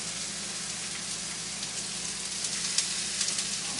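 Chopped onions fry in a little oil in a pan for a House of Blues–style burger, giving a steady, close, even sizzle that holds at constant loudness with a few faint pops near the end.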